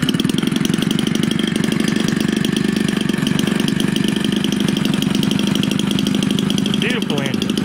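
A Homelite 30cc Silver Eagle engine idles close by in a loud, steady, rapid buzzing putter with an even rhythm, and someone talks over it near the end.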